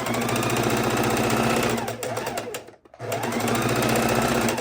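Sewing machine stitching a fabric strip onto the edge of a scrappy quilt, a loud, close, steady rapid chatter of stitches that stops briefly for a second before running again at full speed.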